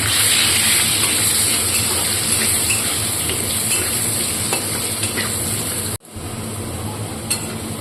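Potatoes fry in hot oil for chicken curry, giving a loud, continuous sizzle with occasional stirring that drops away briefly before resuming a little quieter.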